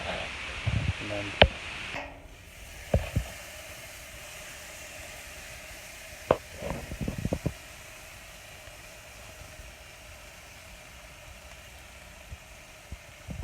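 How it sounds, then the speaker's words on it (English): Meat sizzles on a barbecue grill as a steady, quiet hiss, with a few faint clinks and clatters over it near the start and middle. "Oh, so delicious with the sizzling."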